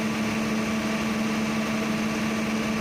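Diesel generator set running at a diesel power plant, a loud steady droning hum with a strong low tonal note, constant throughout with no variation.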